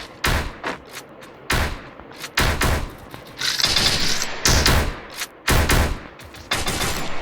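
Loud bursts of automatic gunfire from a gun in a ranked mobile shooting game, fired in short rapid volleys separated by brief pauses.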